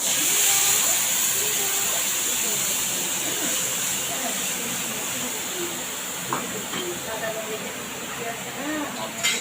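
Water poured into a hot pan of tamarind and fish gives a strong hiss that slowly fades, close and fairly loud, with faint bubbling afterward.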